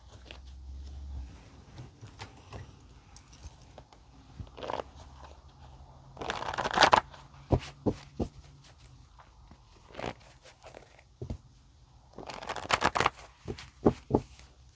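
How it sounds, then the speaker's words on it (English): A deck of tarot-style cards is shuffled by hand close up, with two loud riffling bursts separated by scattered soft taps and slides of cards, and no talking. "All right, let's shuffle."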